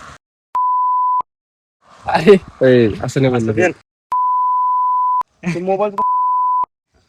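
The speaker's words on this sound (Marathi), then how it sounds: "आता यानं गाली दिली याच्यावर बीप टाक नाही मला." A steady, pure censor beep covers swearing in a vlog. It sounds three times as flat tones of about a second each, and someone speaks between them.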